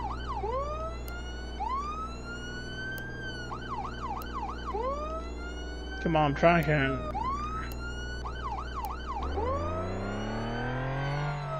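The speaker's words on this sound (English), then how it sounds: "Try to... turn siren off." Police car siren in the Flashing Lights video game, a loud wailing and yelping electronic tone cycling repeatedly with a short burst of changing pattern midway, over an engine hum, with someone talking briefly.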